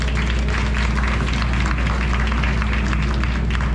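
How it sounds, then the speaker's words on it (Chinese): An audience applauds a newly formed jazz vocal ensemble, a dense, even wash of clapping from many hands, loud and sustained throughout without a break. "所以再给他们一个掌声。"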